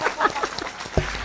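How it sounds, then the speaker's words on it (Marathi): A kirtan audience claps in a short, dense burst of applause that fades slightly, with some murmuring mixed underneath. "खरंच या टाळ्या सुद्धा या सगळ्या गुणवंतांसाठी फार कमी आहेत"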